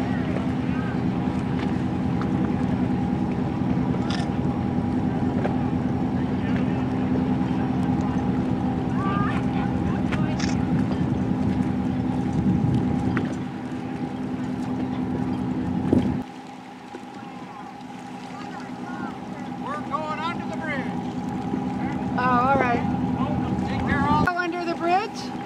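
A boat engine drones steadily on the water during an opening-day boat parade, with wind noise and occasional voices, then the rumble drops away as it passes.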